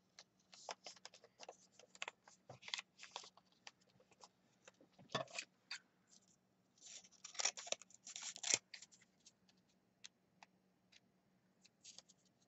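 Scissors snipping paper while card pieces are cut down for a spring pocket letter: a string of quiet, close, crisp snips and clicks in an irregular rhythm, with a few denser bursts.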